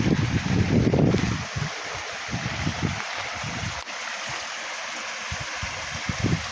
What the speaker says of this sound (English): this is a creek here. It's flowing very nicely.